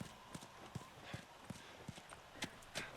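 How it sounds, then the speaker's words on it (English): Horse hooves clopping up stairs in a video game, a steady series of sharp, evenly spaced knocks at a walking pace, fairly quiet over a faint background hiss. "I don't know how difficult it would be for a horse to climb stairs in real life"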